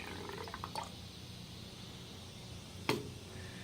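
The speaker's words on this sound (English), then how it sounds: "Pour that in the gun." Purple automotive paint trickling and pouring into a spray gun cup, a faint liquid flow with a few small clinks and one sharp knock near the end, quiet and close.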